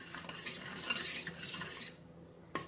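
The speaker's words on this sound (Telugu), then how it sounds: "ఉప్పు వేసి కలుపుకుందాం ఇలాగా" A spoon stirs salt into a yogurt vada mixture in a metal bowl, giving steady scraping and clinking for about two seconds before falling quiet, then a single sharp tap at the end.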